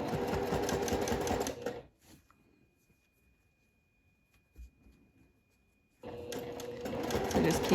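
A sewing machine stitches a striped seersucker dress along its piping, running in fast, loud bursts at the start and end with a quiet pause between.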